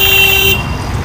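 A loud car horn blares in busy market street traffic during Diwali shopping, a sustained toot cutting off halfway through, leaving the rumble of surrounding vehicles and street noise.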